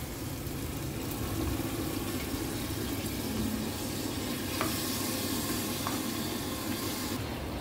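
Mutton goes into a pan of frying tomatoes in a home kitchen, giving a steady sizzle with scraping stirring and a few clinks, fairly close, with no talking.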